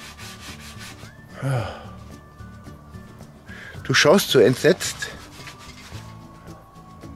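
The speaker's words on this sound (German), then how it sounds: "Naja, ein bisschen kann ich ja jetzt auch noch schleifen." Wood is sanded by hand in a garden in short, rough rubbing bursts, the loudest cluster of strokes coming partway through, while someone talks nearby.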